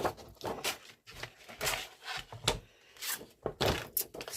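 A paper trimmer slicing paper for a mini journal made from paracetamol boxes. Close, dry rasping strokes come in short, irregular bursts, with no voice over them.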